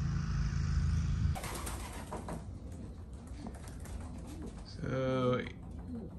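Homing pigeons returning to their loft coo softly nearby amid outdoor background noise, with a brief burst of fluttering wings and a single spoken word.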